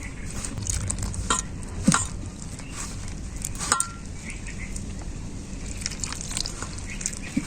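Gram flour batter with salt, coriander leaves and green chillies being mixed by hand, a thick wet squelching and slapping with occasional knocks against the bowl, close and continuous.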